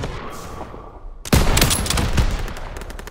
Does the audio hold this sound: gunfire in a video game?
yes